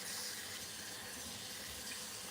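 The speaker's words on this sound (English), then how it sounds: "I always have to rinse the starch off." Thin-skinned white potatoes being rinsed under a running kitchen tap make a soft, steady rush of water that stays even throughout and is fairly quiet, with no voices.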